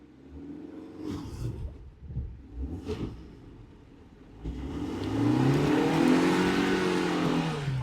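A four-wheel-drive car shifted into 4H engine rumbles at low speed, then revs up louder and more steadily in the second half as the vehicle drives on.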